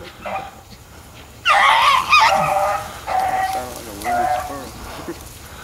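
A dog barks a few times in loud, sharp bursts during a morning hunt, followed by softer yelps and whines, with faint outdoor background noise.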